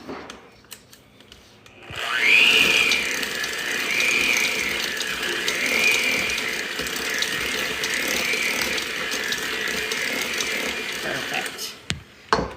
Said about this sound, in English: And now we're going to mix those in real quick.